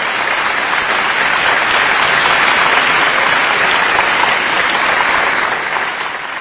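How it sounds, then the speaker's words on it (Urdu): Audience at a poetry gathering applauding loudly, dense sustained clapping from a large crowd that holds steady for about six seconds before easing slightly at the end, with no speech over it. "ایک بار پورا صدن اپنے دونوں ہاتھ اٹھا کر زوردار تالیوں کے ساتھ"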